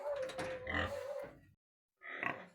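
A young boar in a pen grunts and oinks nearby in two bursts, separated by a brief silence.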